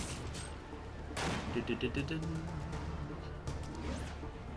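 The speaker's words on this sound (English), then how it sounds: "Hey, they got snipers on the next roof over." Sniper gunfire on a neighbouring rooftop in a Spider-Man video game: a sharp burst of crackling shots near the start, then rapid repeated impacts amid busy game effects, with voices talking over the action.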